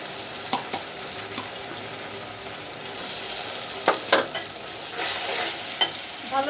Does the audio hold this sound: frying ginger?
yes